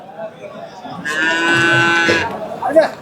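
A single long, loud cow moo with a clear harmonic tone, lasting about a second, over faint background noise and rustling, at a livestock market.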